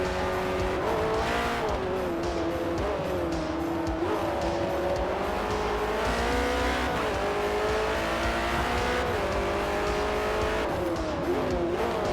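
Race car engine in Forza Motorsport, a Ford versus Ferrari endurance race, runs loud and continuous with gear-shift pitch sweeps, revving and some tire squeal.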